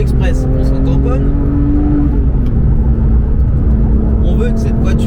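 A Porsche 991 GT3 Touring cruising on a narrow back road, steady engine drone rising and falling slightly as someone talks continuously over it from inside the car.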